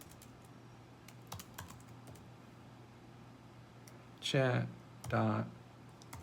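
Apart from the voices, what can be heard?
typing on a computer keyboard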